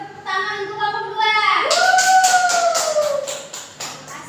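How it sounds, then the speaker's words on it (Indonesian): In a primary-school maths classroom, a group of children claps in a quick, regular rhythm, the sharp claps coming up close after a sung or drawn-out voice. "kita tepuk tangan untuk kelompok 2"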